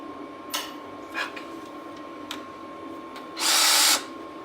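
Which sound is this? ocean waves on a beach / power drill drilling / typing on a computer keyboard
power drill drilling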